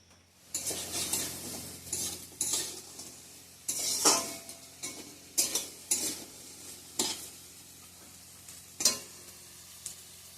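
Potatoes fry in a pan under a soft sizzle, while repeated scraping and clinking strokes from a utensil stirring them come in irregular bursts, close by, with no talking.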